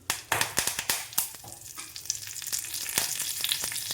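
Dry red chillies broken into hot oil with mustard seeds and curry leaves crackle and sizzle in a pan, with sharp pops at first that settle into a steady close frying hiss.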